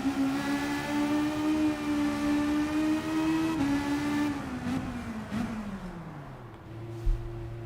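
A Group 3 race car in Gran Turismo 7 at Laguna Seca Raceway, its engine droning at a steady high pitch and then dropping in revs through gear changes and braking, loud and close with no talk.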